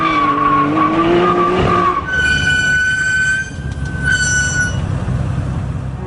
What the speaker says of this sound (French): Dès que les turbos se mettent en route, vous êtes littéralement catapulté. La voiture hurle comme les démons de l'enfer.